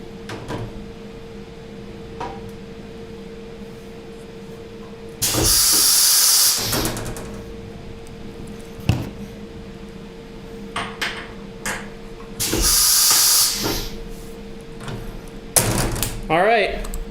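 A CNC milling machine swaps to a 1/8 inch end mill, with two long bursts of loud air hiss and clunks between steady motor hum and scattered mechanical clicks, ending in another short blast.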